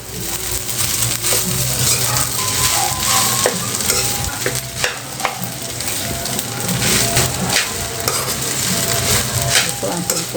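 Fried rice with garlic sautéing in a pan: loud steady sizzling with frequent scraping and clinking of a spatula as the rice is stirred and turned throughout.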